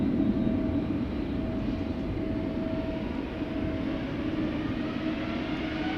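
A departing airliner at Amsterdam Schiphol Airport's Polderbaan runway on a misty morning gives a steady, broad jet roar at moderate distance, an even rumbling wash with a faint whine on top.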